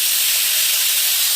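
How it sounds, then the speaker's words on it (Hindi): A pressure cooker on a clay stove lets out a loud, sustained high steam whistle, close and continuous with no voices. "उधर पे कुकर सीटी दे रहा है फुल फुल फुल"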